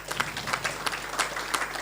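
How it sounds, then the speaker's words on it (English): A small gathering at a KwaZulu-Natal civil society meeting gives a brief, fairly faint round of applause, with loosely rhythmic claps over a low steady hum in the room. "I think we should give you a round of applause"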